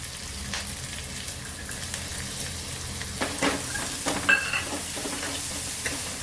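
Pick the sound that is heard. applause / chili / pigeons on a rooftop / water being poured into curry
chili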